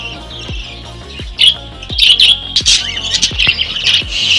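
Birds in an aviary during a cold winter squawk and chirp close by, sharp bursts and shrill calls overlapping in quick succession, growing busier and louder toward the end.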